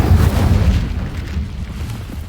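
Incendio fire spell cast in a Harry Potter video game: a loud, deep whooshing burst of flame that swells at once and rumbles steadily before easing off slightly, with no voices over it.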